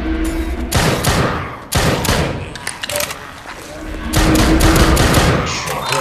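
Rapid gunfire in the VR game DropDead VR, loud bursts and thuds in several clusters with brief pauses, while voices talk during the firefight.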